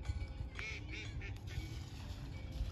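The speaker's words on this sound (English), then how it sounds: "I can hear some more ducks coming" Small ducks quack in short bursts at an evening outdoor spot, faint and a little distant over a steady low background rumble.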